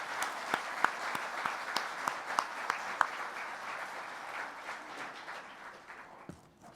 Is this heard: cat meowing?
no